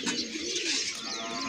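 A pigeon perched nearby gives soft, continuous cooing and calling over a steady outdoor background, with no talk.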